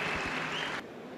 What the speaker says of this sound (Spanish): aplauso para mi amigo Eric Gurrola